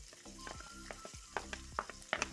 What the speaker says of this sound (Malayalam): ഒരു സവാള സ്ലൈസായിട്ട് അരിഞ്ഞു വെച്ചിട്ടുള്ളതാണ് അത് നമുക്ക് ഇതിലേക്ക് ആഡ് ചെയ്യാം